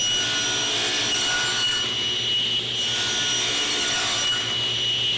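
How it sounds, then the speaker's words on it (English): A table saw cuts the cheeks of a wooden tenon, the stock clamped in a homemade tenoning jig riding the fence; a steady whining motor with a rough cutting rasp continues throughout, with no talk. "with my stock clamped to my homemade tenoning jig, which rides up against my table saw fence, I can cut the cheeks off each side of the tenon"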